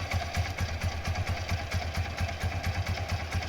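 A restored Hero Honda Karizma motorcycle idles close by with a steady, low, rhythmic thumping beat and some mechanical clatter, recorded through a phone that adds background noise.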